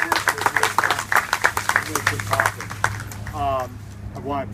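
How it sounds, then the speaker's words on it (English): A crowd claps briskly for a few seconds at a ribbon-cutting ceremony, the applause fading as a voice begins speaking over it. "A huge hand for Laura."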